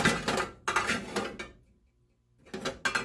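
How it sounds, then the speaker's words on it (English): A metal spoon scoops lard from a container into a cooking pan, making scraping, clinking bursts close by, then a near-silent pause before two more short scrapes. "gonna go ahead and scoop yourself up some lard into your pan"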